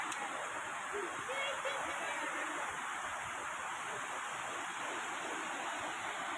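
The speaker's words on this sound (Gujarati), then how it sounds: "આ જાય છે ઘી ડેમ નું પાણી ઓવરફ્લો થઈ ગયો" Water overflowing the Ghee dam at Khambhalia makes a continuous broad rushing roar, even and unbroken, heard from some distance at modest loudness.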